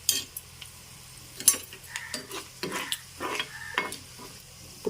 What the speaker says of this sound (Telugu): చక్కగా వేగింది చూసారా, ఈ రకంగా చక్కగా వేపుకోవాలి.